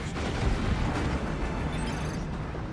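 Dense, continuous rumbling blasts and explosions from battlefield combat in Dawn of War 2, a Space Marines versus Imperial Guard match with missile launchers firing frag missiles, a steady roar of booms across the whole stretch.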